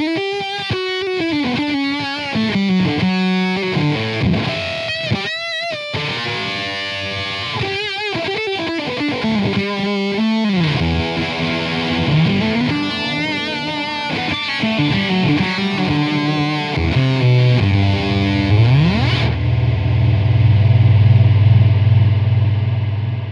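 An electric guitar plays through the Hot Spice distortion effect on a Zoom G11 multi-effects unit, with fat, driven notes and chords ringing out alone, ending on a sustained low held tone.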